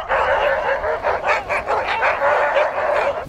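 Sled dogs at a race start line bark and yip continuously in an excited, overlapping chorus, loud and close, with whimpering notes mixed in.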